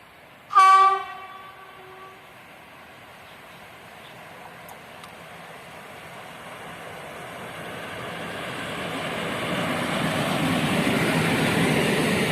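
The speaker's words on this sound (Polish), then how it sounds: "Wjeżdża pociąg TLK Uznam, relacji Warszawa Wschodnia, Świnoujście." A TLK Uznam passenger train, bound from Warszawa Wschodnia to Świnoujście, pulls into Szczecin Dąbie station. A loud horn blast opens, then the rumble of the wheels swells steadily as the train draws near.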